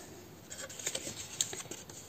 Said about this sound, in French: C'est pas grave, on fait avec une paire de ciseaux.